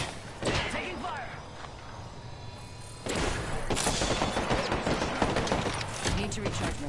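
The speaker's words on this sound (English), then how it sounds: "They spotted me. I'm taking shots. Healing up. Taking fire." Enemy gunfire in a PS4 shooter, bursts of shots and thuds that turn heavier and more continuous after a loud hit partway through, with a voice talking over the action.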